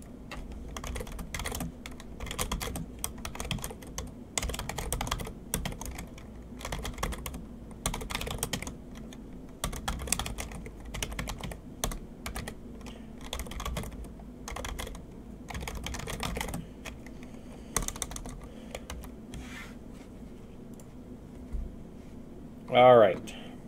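Computer keyboard typing during a game development session, a steady stream of close, crisp key clicks that continues almost throughout, with a louder bump near the end.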